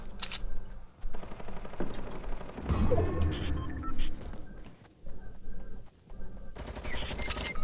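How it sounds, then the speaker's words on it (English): Purple shotgun shots in a Fortnite match, several sharp blasts scattered among other gunfire and game noise, fairly quiet overall. "I hit him with the purple shotty."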